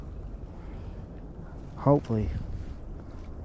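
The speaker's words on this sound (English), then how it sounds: "it is cold and it is windy" Cold wind blows across a frozen lake on a freezing day, a low, steady rumble buffeting the microphone, with a brief spoken word in the middle.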